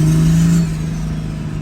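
A 1200hp Cummins diesel in a short-wheelbase truck revs at full throttle, a loud, close, steady low engine drone that holds a high tone briefly before settling into a rough, continuous roar.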